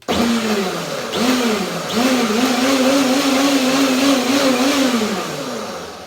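A blender whirs through cilantro, lime and cashew mayonnaise in short pulses, the motor whine dipping and rising between bursts before settling into a steady run, loud and close.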